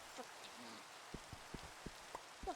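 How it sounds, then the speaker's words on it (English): Minecraft rain patters steadily as a soft, even hiss, with a run of small distinct drop ticks recurring at short intervals; no one speaks. "Oh, it's raining."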